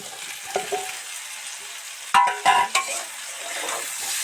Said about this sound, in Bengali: এই মাছটাই তেলের মধ্যে দিয়ে অন্তত দু মিনিট কষতে লাগবে বন্ধুরা মশলার সাথে সুন্দর করে কষবো